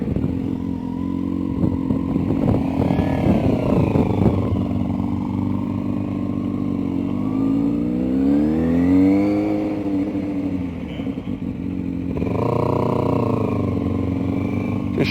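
A car pulls out of a driveway during a driving lesson, its engine rising and falling in pitch through gear changes, revving up near the middle and again toward the end, heard close and continuously.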